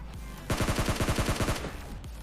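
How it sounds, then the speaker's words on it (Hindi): Rapid burst of gunfire in PUBG Mobile Lite, a dozen or so quick shots coming from behind the player, loud and punchy over steady game ambience, lasting about a second before stopping. "मुझे पीछे से कुछ शॉट्स आते हैं"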